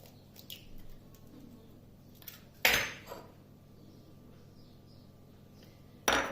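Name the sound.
adding an egg to cake batter in a bowl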